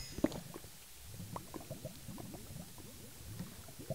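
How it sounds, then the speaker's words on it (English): Water flows and gurgles in a Minecraft cave: faint, bubbly blips and soft burbling repeat irregularly over a quiet background, with no voices. "There's water in there."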